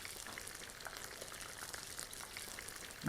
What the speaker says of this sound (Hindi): हमने इसको इस तरह से पलटा लेना है ताकि दोनों तरफ से अच्छी तरीके से फ्राई हो।